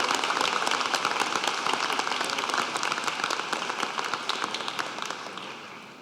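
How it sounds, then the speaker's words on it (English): A large audience at a spring graduate commencement ceremony breaks into dense, sustained applause that gradually tapers off toward the end. "Please give all of those who have supported you during these important years a round of applause."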